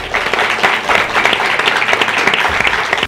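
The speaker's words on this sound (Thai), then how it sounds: "ขอให้ทุกคนปรบมือให้ตัวเองครับ" Steady applause from a group of talent show contestants clapping for themselves, dense clapping that carries on evenly for a few seconds before cutting off.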